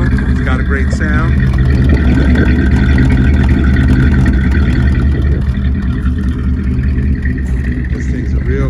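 A 1946 Ford Deluxe Special's engine runs steadily with a deep, rumbling idle at close range, loud and continuous, with a brief higher whine early on.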